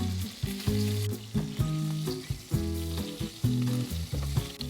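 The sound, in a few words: beef mince frying in hot oil in a pan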